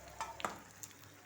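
Short crackling sizzle of spices, curry leaves and asafoetida hitting hot oil for tempering, with a couple of sharp pops over a soft hissing background.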